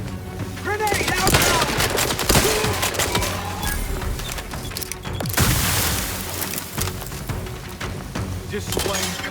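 Grenade blast and gunfire in The Outer Worlds 2 video game: dense, loud bursts of rapid gunfire, a heavy explosion roughly midway, and a robotic-sounding character voice heard among the battle noise.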